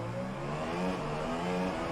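A race car engine in a video game at Imola holds a high, buzzing rev, its pitch wavering slightly as it idles at speed before launch.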